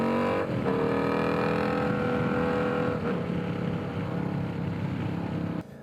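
Loud exhaust of an Indian Scout Bobber motorcycle, a deep continuous rumble up close with brief throttle changes, holding steady for several seconds before cutting off sharply at the end.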